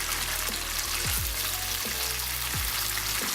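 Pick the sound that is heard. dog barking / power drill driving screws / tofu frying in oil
tofu frying in oil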